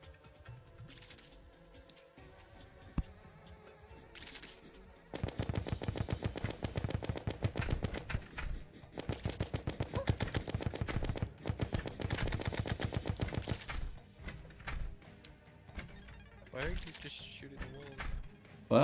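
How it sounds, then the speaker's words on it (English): Rapid-fire gunfire in Terraria aimed at a worm enemy: a dense, fast stream of repeated shots runs for about nine seconds, then stops, leaving quieter game sounds. "Well, I was shooting the worm."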